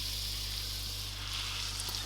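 Butter sizzles in a hot Teflon pan for a leftover roast chicken omelette: a steady, close, even hiss that holds unbroken throughout, with no talk over it.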